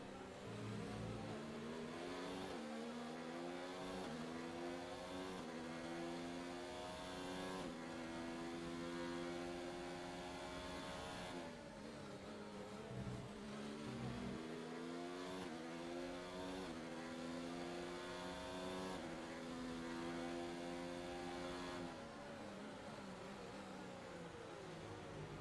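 Williams Formula 1 car engine in the F1 2019 racing game, a high-pitched combustion engine howling continuously as it revs up through gears and drops back on lifts, steady and close throughout.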